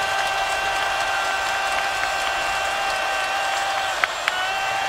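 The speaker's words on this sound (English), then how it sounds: "Michigan State crowd exhorting that defense to make a stand here." A Michigan State football stadium crowd roaring steadily to urge on its defense, a broad continuous wash of cheering and applause with a couple of brief sharp accents near the end.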